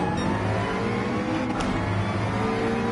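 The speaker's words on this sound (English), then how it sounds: "911 with its slow takeoff" In the racing game Gran Turismo 7, a Porsche 911 engine drones steadily and loudly as it pulls away slowly at a race start, a continuous hum with layered tones and no talk.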